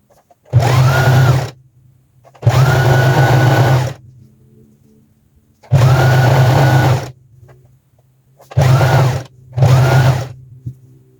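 A sewing machine stitches along one side of a long 1.5 m fabric strip for an elastic trouser waistband, running in five loud, close bursts of rapid whirring separated by short quiet pauses.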